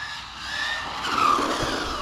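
MJX 14210 brushless RC car on a 3S battery pulling away smoothly and then skidding under hard acceleration, a steady tire hiss and scrub building up across the clip, close and fairly loud, with no talking.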